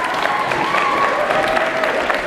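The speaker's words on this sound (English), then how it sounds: "Give them a round of applause" Audience applause at a live hypnotist show, a steady wash of clapping from the crowd that holds evenly across the moment.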